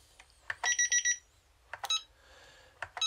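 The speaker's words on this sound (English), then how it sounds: "you'll hear the beeps changing" Short electronic beeps from a JAZZ joystick changing speed settings, in small bursts, some rapid and stuttering, others single, with a brief tonal chirp between them; quiet and close.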